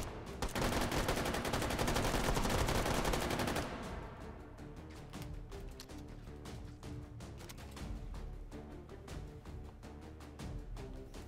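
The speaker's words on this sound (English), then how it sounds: "This is some suppressive fire," An M249 machine gun lays down suppressive fire in the VR game H3VR, a loud, dense sustained burst followed by a rapid string of shorter, rattling shots.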